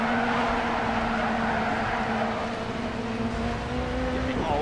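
Rally car in the Dirt Rally rallycross video game, driven on a Logitech G920 wheel, with a steady loud engine drone and a sustained tonal whine that shifts in pitch as the car slides on loose surface, continuous throughout.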